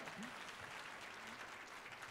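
Steady applause from an audience at an MLK breakfast award event, a dense patter of many hands clapping, heard fairly faintly and continuing without a break.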